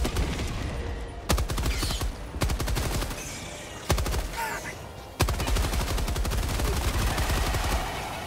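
Orbital strike bombardment in Helldivers 2: a rapid series of loud, sharp explosive cracks and booms, some spaced about a second apart, over continuous heavy gunfire-like rumble.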